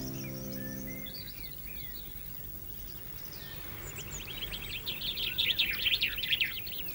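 A La Gomera chaffinch sings in the Garajonay laurel forest, quick chirping phrases that grow louder toward the end over a steady hiss of forest ambience, with no talk.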